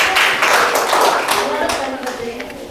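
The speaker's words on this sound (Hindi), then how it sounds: "राखी सोरेन के लिए एक जोरदार ताली होना चाहिए।" Classroom applause for a student, a burst of clapping from a group that fades gradually over a few seconds, mixed with overlapping voices.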